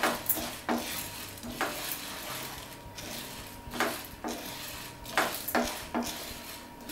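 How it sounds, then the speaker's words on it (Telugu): Black gram dal being dry-fried in a pan until brown, with a spoon or spatula scraping and stirring in repeated strokes against the metal, close and fairly loud, under a soft background hum, with no talking. "చూసారుగా ఇలా బ్రౌన్ కలర్ వచ్చేంత వరకు వేయించుకోవాలి."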